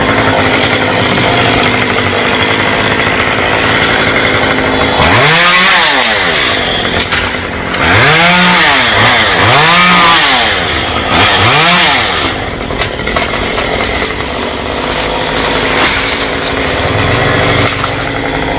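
A chainsaw cuts down a tropical almond tree leaning onto a house roof, running loud and close with repeated revving surges that rise and fall as it bites into the wood, alone without talk.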